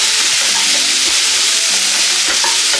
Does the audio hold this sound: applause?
no